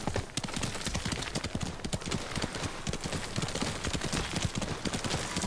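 Horse hooves clip-clopping steadily while riding in the video game Ghost of Tsushima, a fast continuous rhythm of loud, close hoofbeats over a dense ground of game ambience.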